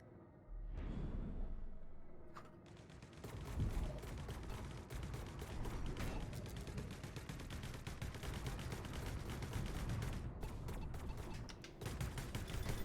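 Rapid, continuous gunfire in the Battlescape video game crackles steadily for several seconds, dense and mid-distance, with brief gaps and a mechanical rattle underneath.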